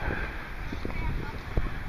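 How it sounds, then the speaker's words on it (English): Steady wind rushes and buffets close to the microphone at an outdoor market with tents, a continuous low roar with faint background murmur beneath it. "It's a windy day."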